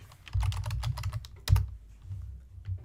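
Keys on a computer keyboard clatter in a quick burst of typing, then pause, and a few more taps follow, close and fairly quiet, with no voices.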